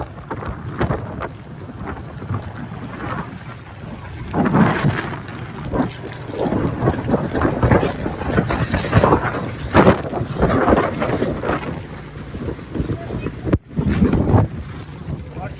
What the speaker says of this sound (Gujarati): વરસાદ ની તો બધી ચાલુ છે